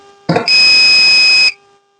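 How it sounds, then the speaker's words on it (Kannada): A vehicle accident-alert sensor project sounds one loud electronic beep, a harsh buzzing tone held for about a second before cutting off, with no talking. "ಈಗ ಚಲಿಸುವ ವಾಹನದಲ್ಲಿ ಬದಲಾವಣೆ ಅಥವಾ ಇದ್ದಾಗ ನಾವು ಬೀಪ್ ಸೌಂಡನ್ನು ಕೇಳ್ತಾ ಇದ್ದೇವೆ"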